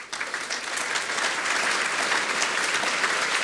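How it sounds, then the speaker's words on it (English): After a panel discussion on the courts, an audience gives a steady, dense round of applause, evenly sustained throughout, with no talking over it. "I wanted to ask the audience to thank you with a big round of applause"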